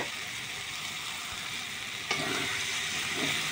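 Fried chilies dropped into a sizzling khatta palak dish, a steady hiss of frying that swells suddenly louder midway as they hit the hot pan, close and without talk.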